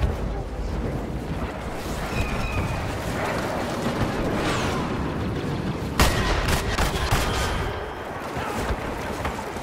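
Sustained gunfire and blasts from weapons shooting at walkers in the Star Wars Battlefront video game, a dense continuous barrage with a sharp louder burst partway through, game voices mixed in.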